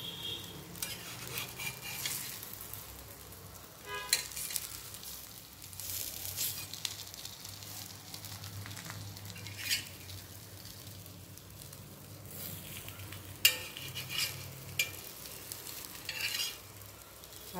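Surmai fish fillets sizzling and frying in oil on a flat pan, turned over with a spatula partway through, the steady crackle interrupted by brief scraping and clinks of the flip, with no talking.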